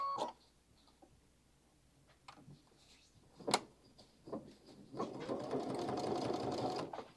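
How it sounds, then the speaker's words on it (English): A sewing machine stitching folded fabric starts up after a few scattered handling clicks and knocks, then runs in a steady, close, buzzing whir to the end. "Keep that fold there and start sewing again."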